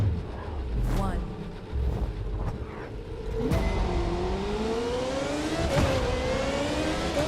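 Race car engine at the start of a race in The Crew 2, revving and rising in pitch as it accelerates, loud and steady throughout, with other engine noise beneath and a voice speaking over it.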